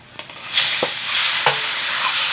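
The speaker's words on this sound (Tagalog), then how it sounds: "Simulan na natin yung pagluluto, pero hindi tayo gagamit ng mantika." Pork intestine chicharon (ginabot) frying in its own rendered fat with no added oil, with a steady close sizzle and a few scraping stir strokes through it, no talking.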